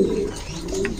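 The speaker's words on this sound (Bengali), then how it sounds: "এখানে একটা কালা লাক্ষা কবুতর দেখা যাচ্ছে" Black lakha fancy pigeons coo up close with low, throaty rolling calls. A few soft chirps sound over a steady background.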